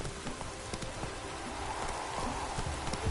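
Roach, the horse in the video game The Witcher 3, trots with steady clip-clop hoofbeats close by, over a soft constant patter like rain, with no voices.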